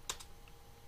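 A command being typed on a computer keyboard while setting up a Raspberry Pi: two quick, faint key clicks near the start, then near silence.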